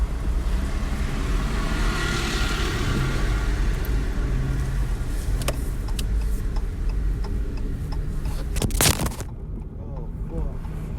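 A car being driven, a steady low engine and road rumble filling the whole stretch, with a brief clatter near the end.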